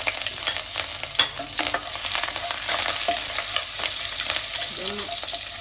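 Garlic, curry leaves and green chillies frying in hot oil for a ladies finger stir-fry, giving a loud, steady crackling sizzle with intermittent stirring scrapes, close up and without talk.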